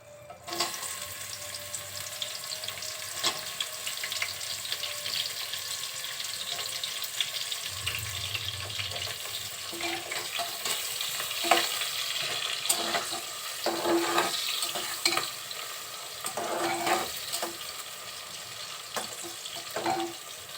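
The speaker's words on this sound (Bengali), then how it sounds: "এই গরম মশলার সাথে দিয়ে দিব পেঁয়াজ কুচি।" Chopped onions fry with whole garam masala in a pan for a beef curry, a soft continuous sizzle punctuated by light stirring clatter and scrapes, quiet and close.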